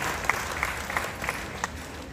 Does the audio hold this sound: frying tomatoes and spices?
no